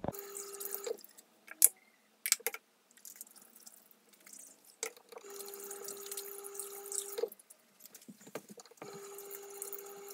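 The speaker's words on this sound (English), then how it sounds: "we're going to wet our face, then apply it" Tap water runs into a bathroom sink in bursts while a face is wetted before applying a Sainsbury's refreshing facial wash, with close splashing and short pauses where the flow stops.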